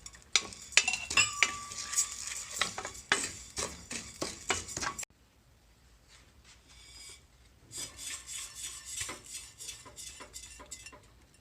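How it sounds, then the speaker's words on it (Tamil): Whole cardamom pods and cloves stirred while dry-roasting in a pan for payatham palagaram, giving close, repeated scraping and rasping strokes, busy for five seconds, then a brief lull before softer stirring resumes. "இதோட ஏலக்காவும் கிராம்பையும் போட்டு வறுக்கணும்."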